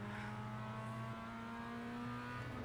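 Race car engine in the iRacing sim, a steady sustained drone at high revs with a strong tonal whine and a slight shift in pitch near the end, fairly quiet and with no talk.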